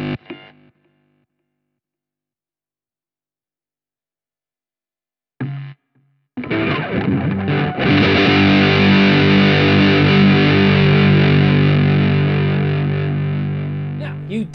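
Distorted electric guitar on a handmade Venom-inspired build, starting with a couple of short bursts, then ringing into a loud, sustained chord that swells and slowly fades.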